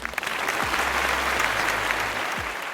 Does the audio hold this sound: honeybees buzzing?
no